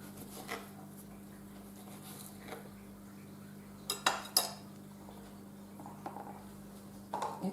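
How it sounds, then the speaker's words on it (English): An orange is cut in half and juiced, faint quiet clinks and taps of cutlery and dishes scattered over a soft room hum, with a small cluster of knocks midway. "And now we're going to juice the orange."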